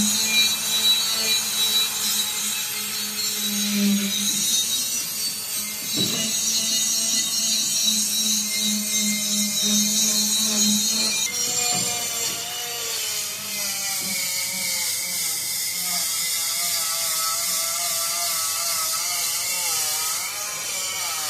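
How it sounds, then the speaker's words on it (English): An angle grinder with a wire wheel strips rust and old seasoning from a cast iron pan, a sustained high, gritty whine with shifting pitch and brief pauses in the pressure, close and loud, with no speech. "Take this in grinder with a wire wheel and get the tough areas."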